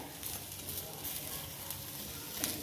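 Onion, garlic, ginger and tomato sautéing in a pan for a mixed vegetable dish, a soft continuous sizzle with faint stirring scrapes, quiet and close.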